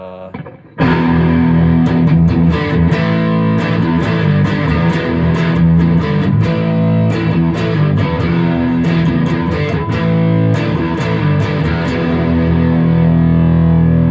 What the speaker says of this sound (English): I'll throw some distortion on here.